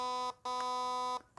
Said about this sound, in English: Now it'll do 1 beep for not binary and 2 beeps for binary